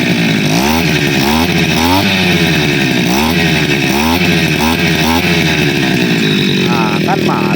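A lawn mower engine revving loudly up close, its pitch rising and falling in repeated surges with each throttle push, a steady buzzing roar throughout.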